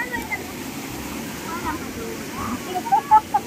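Lokki Gundam waterfall roaring as a steady, close wash of falling water, with a few sharper splashes toward the end and faint voices underneath.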